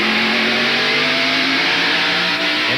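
Inside the Interstate Battery Chevrolet stock car during a 1993 race, the engine drones loud and steady at high revs, its pitch climbing slightly, with no talk.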